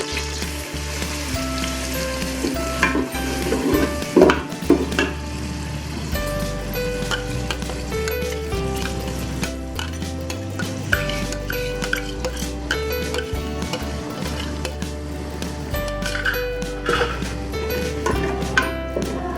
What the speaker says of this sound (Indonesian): Kita aduk sampai harum.